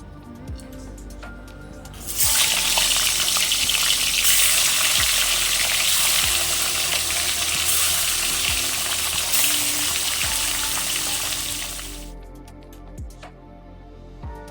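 Oil poured into a hot pan starts sizzling loudly for cooking snakehead fish with mango, a steady bright frying hiss lasting about ten seconds before fading, with occasional soft clicks and clinks around it.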